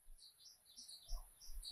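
Small birds chirping outdoors with scattered faint high tweets and calls over a quiet low rumble, distant and soft, with no talk.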